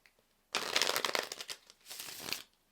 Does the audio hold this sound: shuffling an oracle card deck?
yes